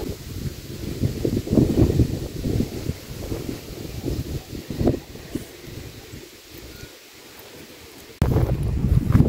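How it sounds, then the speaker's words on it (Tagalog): Steady wind blowing outdoors in British Columbia in summer, a broad continuous rush that dips quieter for a moment before gusting back up strongly near the end. "Sarap ng hangin dito."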